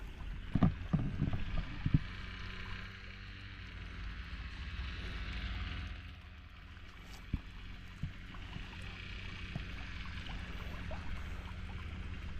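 Steady rushing water from a hose pours and splashes continuously, fairly close, with a few knocks and clatters early on and no talking.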